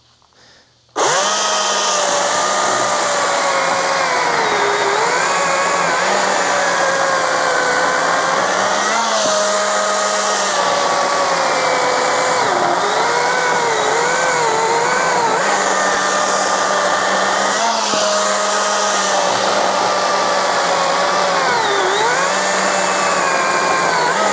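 A Husqvarna 350i electric chainsaw in boost mode whirs loudly at high speed after a brief quiet start, holding a steady high-pitched whine with slight dips as it cuts.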